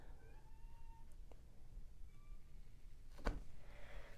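A pet kitty cat gives a couple of soft, short meows indoors at low level, followed by a brief sharp knock or tap against a quiet hissy background.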